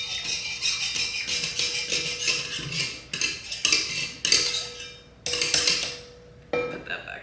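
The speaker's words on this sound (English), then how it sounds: "let's whisk that. I'm gonna dissolve that into a slurry" A whisk beating flour into a liquid slurry in a bowl, rapid rhythmic metallic clinking and scraping close up, with brief pauses between bursts of whisking.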